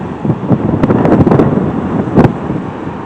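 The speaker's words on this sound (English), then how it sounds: "It's windy here." Strong wind by the ocean buffets close to the microphone in rough gusts, with a low roar of big surf underneath and no talking.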